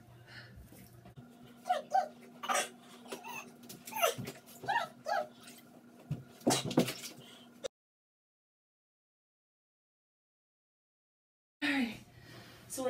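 A dog being put into a bath whimpers and yips in a series of high, strained cries with short barks, close and fairly loud, then a silent gap before a final burst.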